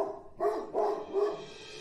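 A dog barks three times in quick succession, close and moderately loud, with a short trailing yelp.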